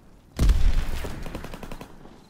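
A rapid burst of suppressing gunfire in the video game Call of Duty WWII, loud and close at onset, then a rattling string of automatic shots trailing off over about two seconds.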